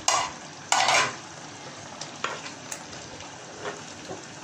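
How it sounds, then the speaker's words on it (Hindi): Chicken in masala for achar gosht fries in a pan with a steady close sizzle, broken by a few sharp scraping stirs of a spoon near the start and softer strokes later, with no voices. "चिकन भी गल गया और मसाला भी अब मैं इसे भून लूँगी"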